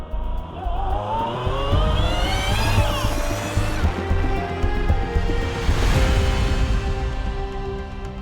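The Quantum GP700, a 700-horsepower homemade supercar weighing about 700 kilos, drives past with rising and falling engine pitch as it accelerates, loud and close, then fades slightly.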